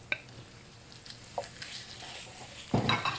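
Mincemeat frying with mushrooms and onions in a pan gives a soft sizzle under scattered stirring clinks and scrapes, with a louder clatter near the end.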